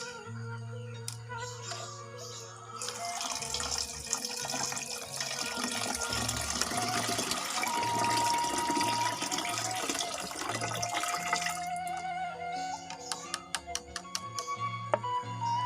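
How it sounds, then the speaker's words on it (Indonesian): A stirred liquid microorganism solution made with cow rumen starter is poured into a jerry can, a steady gushing and gurgling stream lasting several seconds before tapering into drips, close and alone. "Kemudian kita masukkan ke dalam jerigen."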